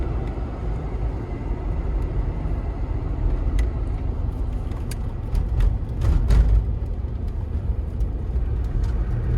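A 1995 Range Rover County diesel is driving with a steady, low engine rumble and road noise, and a few light knocks and clicks over it.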